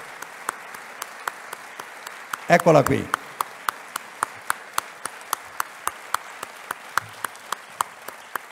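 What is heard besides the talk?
applause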